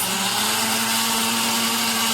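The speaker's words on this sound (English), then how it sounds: "It's gonna take some work on the blender" A blender motor roars steadily at close range, a loud continuous whir with a grinding edge as it churns thick frozen bananas.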